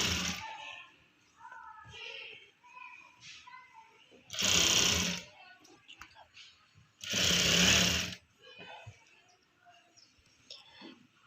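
A sewing machine stitches a co-ord dress set in two loud, close bursts of steady rapid whirring, each lasting about a second and a half, separated by quieter handling noises and soft talk.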